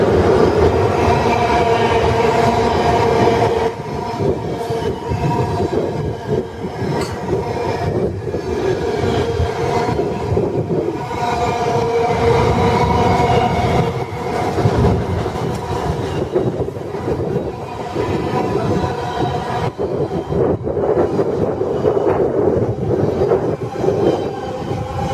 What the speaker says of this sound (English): Here comes a Freightliner Class 90.